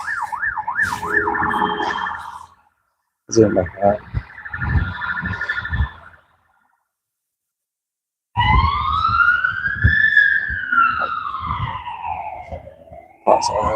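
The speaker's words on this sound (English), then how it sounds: "That's the ambulance just coming through." An ambulance siren wails past in the city streets of Cambridge, rising and falling in a sweeping tone, loud and near. Speech is heard before it and sporadic traffic noise surrounds it.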